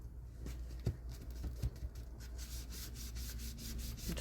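Dry scratchy rubbing over a dried, glued photo card, quiet and close, with a couple of brief sharper scrapes and a faint steady hum underneath.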